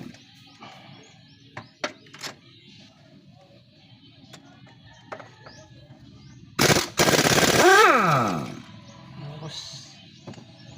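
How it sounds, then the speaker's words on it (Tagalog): Impact wrench rattling loose engine head bolts, a loud close burst of rapid hammering lasting about two seconds that winds down with a falling whine, preceded by scattered clanks and light workshop sounds. "lakas ng impact drive tanggalin natin yung mga bolt"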